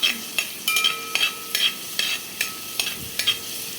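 Garlic sautéing in a pan for a Kerala peppered chicken liver fry, a soft sizzle broken by about eight regular spatula scrapes and clinks against the pan, close and with no talking.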